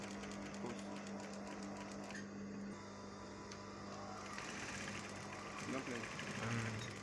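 Sewing machine stitching a welt pocket, running as a steady mechanical hum that continues under a person talking throughout.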